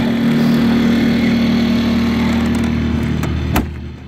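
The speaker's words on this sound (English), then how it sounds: "you got a nice, totally quiet generator running in a box on the back of your car" A small generator enclosed in a box on the back of a car hums steadily at close range with a constant droning tone, then a brief clunk near the end as the sound drops slightly.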